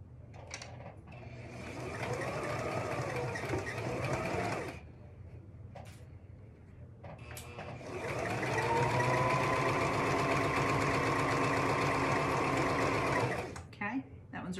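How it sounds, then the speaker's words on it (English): Sewing machine stitching a seam on a child's hat, running in two long steady bursts with brief pauses and short stops between, close and fairly loud, with a voice talking quietly in the gaps. "I'm gonna start right here on this end, sew all the way down, backstitch at both ends."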